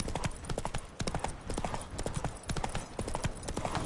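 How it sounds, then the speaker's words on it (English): Roach, the horse in The Witcher 3, clip-clops in a steady, brisk rhythm of close hoofbeats, with faint voices underneath. "Spooking my horse. Roach doesn't like ghosts."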